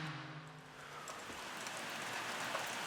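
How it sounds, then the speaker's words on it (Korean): Heavy monsoon-season rain pours down as a dense, steady hiss that fills the whole stretch, with faint low tones fading early on. "장마가 시작됐는지 세차게 비가 내리던 날이었어요."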